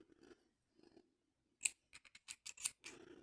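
Scissors snip crochet yarn in a few quick close, crisp cuts, after some soft faint handling noises earlier on.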